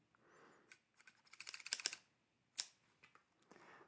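Crisp scissor snips in quick bursts, several clustered together then a lone sharp cut, close up and with no voices, soft rustling in between.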